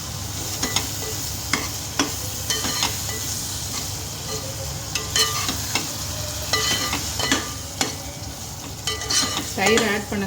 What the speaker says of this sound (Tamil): இப்போ இந்த அளவுக்கு நம்மளோட கிரேவி நல்லா ஃப்ரை ஆகிடுச்சு.